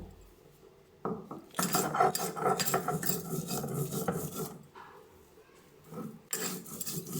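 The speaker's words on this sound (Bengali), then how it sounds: "এটা শিলে বাটতে হবে তো চলো এবার এটাকে আমরা ভালো মতন করে বেটে নেব" Eggplant mash ground by hand on a traditional stone grinding slab, with scraping, rubbing strokes in uneven bursts, close and fairly quiet, pausing briefly near the end.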